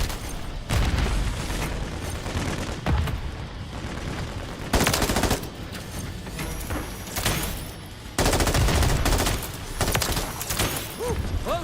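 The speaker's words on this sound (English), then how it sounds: "Grenade! Get back!" A grenade explosion and rattling gunfire in a first-person shooter game, with loud booming bursts and rapid automatic fire recurring through the scene, close and heavy.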